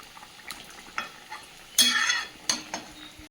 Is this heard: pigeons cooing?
no